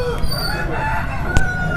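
Roosters and country chickens at a Sunday country-chicken poultry market in Ongole, with clucking and calls close by amid steady crowd noise and people talking.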